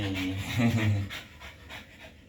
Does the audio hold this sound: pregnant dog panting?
yes